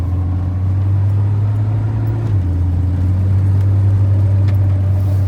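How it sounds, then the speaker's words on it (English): A 1978 Datsun 280Z engine drones steadily from inside the car, a strong low hum that drops in pitch partway through as it shifts and pulls on, with no talking. "I give just a little bit of throttle and this car wants to go."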